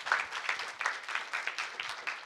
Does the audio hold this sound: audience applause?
yes